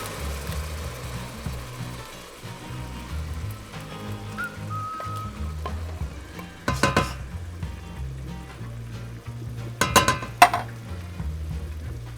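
Onions soften in a pan for turkey tetrazzini, a soft crackling fry under low background hum, broken by a few sharp clattering stirs and utensil knocks near the middle and end.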